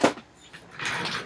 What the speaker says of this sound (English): Got to roll over here to my punch drawer.